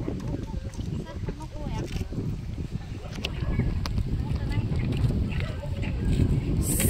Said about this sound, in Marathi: वारं एवढं सुटलंय